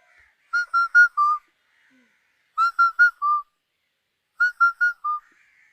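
A woman imitates a crow cawing in three short bursts of four clipped, whistle-like notes, with pauses between the bursts. The voice is close and fairly quiet, with no talk.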